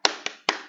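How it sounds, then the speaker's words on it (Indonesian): Children performing a rhythmic spirit clap in a classroom, three sharp group claps in quick succession with a pause before the last, loud and close with no talking. "Tepuk semangat."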